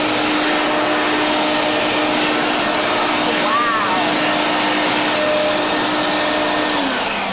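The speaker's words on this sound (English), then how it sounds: "we would turn the HEPA filter vacuum system on and it would extract it all" A HEPA-filter vacuum extraction system runs loud and close, pulling dirt out of carpet with a constant high whine and airy roar that holds steady and eases off slightly at the end.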